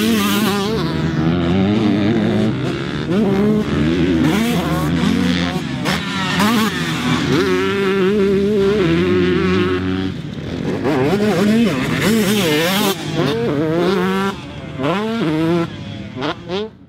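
A 2002 Honda CR125 two-stroke dirt bike is ridden hard, its engine revving up and down in repeated whining surges and gear changes, loud and close, with a voice talking over it.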